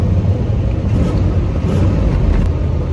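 A classic car's engine rumbles loudly and steadily as it accelerates, a deep continuous roar heard from inside or very near the vehicle.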